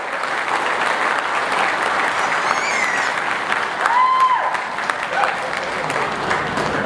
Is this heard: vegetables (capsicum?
no